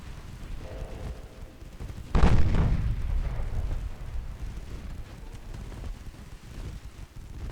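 Torpedo explosion in the naval battle game Ultimate Admiral Dreadnoughts: one sudden loud, deep boom that rolls off slowly into a long rumbling tail, with steady low background noise throughout.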